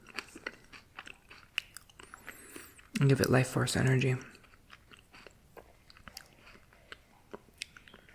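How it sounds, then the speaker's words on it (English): Crunchy bites and chewing of fresh fruit from a fruit bowl, eaten outdoors, with one loud burst of close crunching midway and soft mouth sounds around it, while a person talks briefly. "I chew slowly. I take my time."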